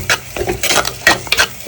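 A spoon stirs ground coconut and tomato paste into sautéing vatha kulambu, a series of quick, loud, close scraping and squelching strokes in an uneven rhythm, with no talk.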